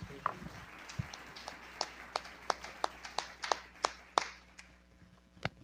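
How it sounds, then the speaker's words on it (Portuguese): A church congregation claps hands during a service: a quiet, sparse series of distinct, sharp claps in an uneven rhythm, a dozen or more separate hits against a low background hum. "Salva de palmas."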